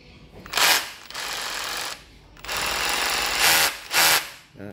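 A Japanese cordless drill runs in hammer mode in short bursts, each burst a loud rapid rattling hammer action starting and stopping abruptly, with brief pauses between, close up.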